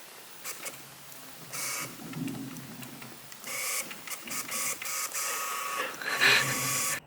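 A Canon RF 85mm f/2 camera lens autofocus motor whirs and buzzes in short, uneven bursts while hunting for focus, starting and stopping repeatedly as it strains back and forth, close and fairly quiet.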